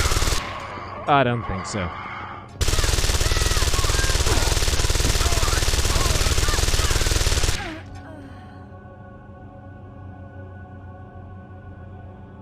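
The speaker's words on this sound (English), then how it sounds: "I'm getting the feeling that the SMG is slightly overpowered in this game." Submachine gun firing in Deus Ex: Invisible War, a loud continuous burst of rapid automatic fire lasting about five seconds, with a brief spoken line before it and a low hum after.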